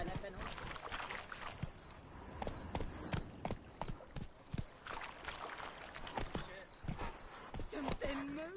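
Horse hooves clip-clop at a steady walking pace while riding in The Witcher: Wild Hunt video game, a continuous rhythmic clatter with ambient game sounds and speech heard over it.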